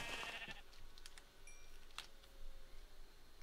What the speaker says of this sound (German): Und Schafe! Schafe, Schafe, Schafe! Endlich Schafe.